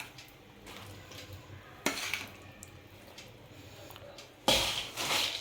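Hot jaggery syrup is stirred into fried boondi in a pot, giving soft wet squishing and scraping, quiet and close, with a couple of sharper clinks of the spoon against the vessel.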